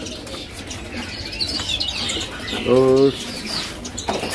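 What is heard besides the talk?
caged songbird chirping in a bird shop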